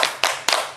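Children clap the rhythmic Tepuk Yesus pattern at a church children's service, three sharp group claps spaced evenly and close by, with no talking over them.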